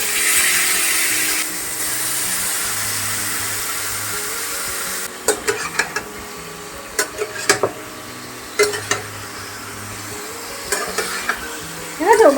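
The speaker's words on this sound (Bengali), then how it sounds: "চিকেনগুলো ভালো করে ধুয়ে রেখেছি, এখন এগুলোকে একটুখানি ভেজে নেব।" Chicken pieces fry in a kadai of white oil seasoned with salt and black pepper, giving a steady sizzle with repeated sharp clatters from stirring.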